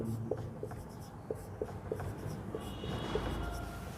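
A teacher writing numbers for a class 7 maths exercise, a series of short chalk-like taps and strokes in an irregular rhythm, faint and close against a quiet room hum.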